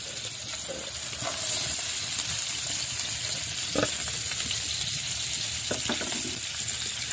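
Lard, onion and garlic fry in a pan over an open fire outdoors in a village, with a steady, close sizzle throughout and a few sharper pops and crackles.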